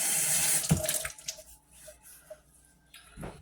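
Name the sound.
rinsing unpeeled potatoes under running tap water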